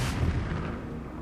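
Bomb exploding in The Legend of Zelda: Skyward Sword, a single deep, booming blast that fades out quickly.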